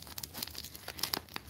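Tape and cardboard of a well-taped birthday package being torn open, a quiet series of short ripping and crinkling bursts close by, with no talking.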